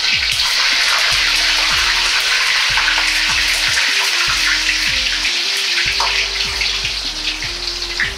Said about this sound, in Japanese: うずら卵も揚げていきます。